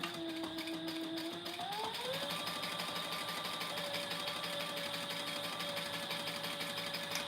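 A sewing machine top stitches maroon ripstop fabric, running in a steady, continuous mechanical whir that shifts pitch slightly early on and then holds evenly throughout, with no voices.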